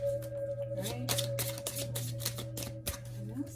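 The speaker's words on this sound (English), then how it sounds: "I will do 2 more shuffles, see if anything else comes out." Tarot cards being shuffled by hand: a quick run of crisp riffling bursts and soft card slaps in an even rhythm, close and fairly quiet over a steady low hum.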